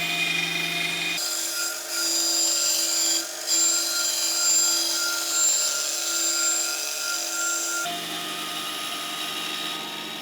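Saw cutting an ebony purfling strip against a fence set at an angle, a steady close whine with a high ringing tone throughout, changing pitch slightly as the cut starts and ends.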